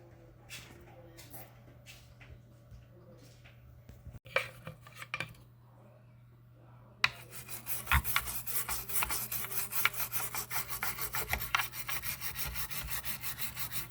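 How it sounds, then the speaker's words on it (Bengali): A motherboard soiled by rats is scrubbed with thinner and a brush, giving close, rapid rubbing strokes. Scattered taps and knocks come before steady scrubbing takes over. "থিনার দিয়ে ইঁদুরের নোংরাগুলো পরিষ্কার করে নিচ্ছি, খুব ভালোভাবে ঘষে নিতে হবে।"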